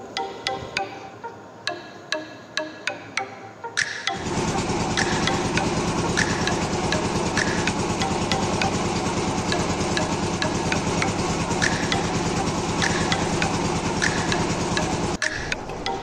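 The engine of a boat crossing the Ganges during the monsoon runs with a loud, steady mechanical drone. Sharp rhythmic clicks come just before it starts, and it rumbles on without a break until near the end.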